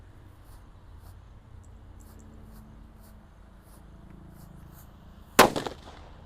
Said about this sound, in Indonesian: kita akan menyalakan mercon disco happy flower warna merah lap-lap Thor di dalam lubang tanah